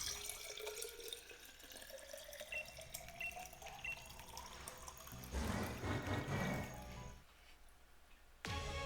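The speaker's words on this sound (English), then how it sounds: "could you guys actually hear me pour my water?" Water is poured into a glass, a gurgling trickle whose pitch rises as the glass fills, followed by a louder splashing burst and a brief pause, fairly close and with no talking.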